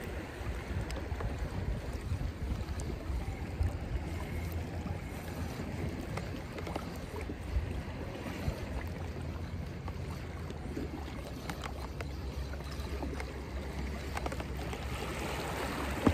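A motorboat moving over water, with a steady engine rumble mixed with rushing water and wind buffeting the microphone throughout, and no talking.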